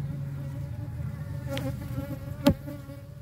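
Honeybees swarm around an opened hive in a steady, dense buzzing drone close by, with a short sharp knock near the end and no voices.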